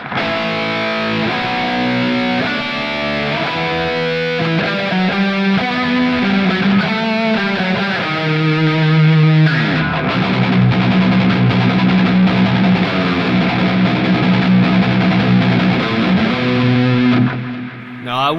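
Heavily distorted electric guitar playing sustained low chords and notes, with echoing delay repeats smearing each change, loud and continuous.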